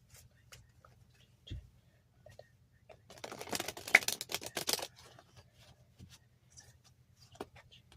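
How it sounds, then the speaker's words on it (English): A deck of tarot cards is shuffled in one quick riffling burst of soft, papery flutter, with a few faint taps and rustles before and after in an otherwise quiet room. "I'm going to shuffle the deck."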